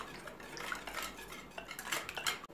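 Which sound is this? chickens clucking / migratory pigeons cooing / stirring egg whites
stirring egg whites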